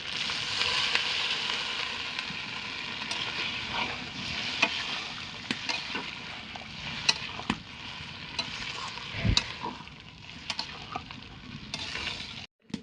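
Goat mutton frying (kosha) in a pan, with a steady dense sizzle and the scrape of stirring running throughout, close and moderately loud with scattered ticks and pops and no talk.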